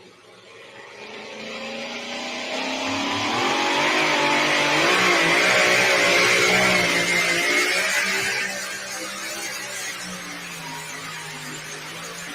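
A super stock diesel pulling truck roars down the track at a truck pull, its engine revving up to a sustained, loud bellow before easing off, close and steady with no talk over it.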